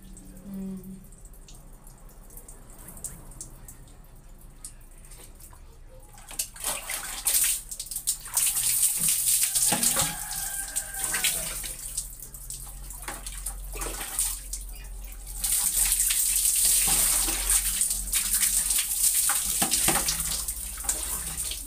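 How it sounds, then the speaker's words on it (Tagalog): Running water from a shower, quiet and dripping at first, then a louder continuous spray with splashing that grows stronger toward the end. "Yan lang yung morning shower routine natin guys."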